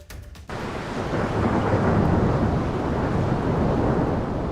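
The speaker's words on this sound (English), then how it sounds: "In the last hour, rain, thunder, and lightning in downtown St. Louis." A thunderstorm over downtown St. Louis, with a low rolling rumble of thunder building over steady heavy rain after a brief quiet start.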